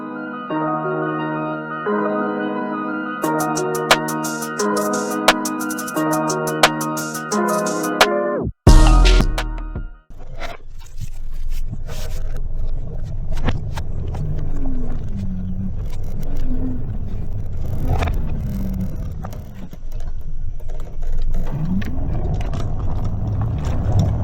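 After a few seconds of music, a Greenworks Stealth 60V electric mini bike rides through a neighborhood. Its ride gives a continuous low rumble of road and wind noise with faint, rising and falling electric motor whines.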